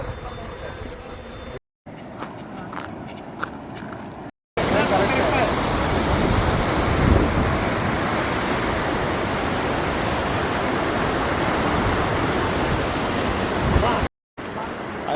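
A stream in full flood after heavy cyclone rain roars steadily, a dense, loud wash of rushing water filling the whole scene, with brief cuts and a quieter stretch at the start.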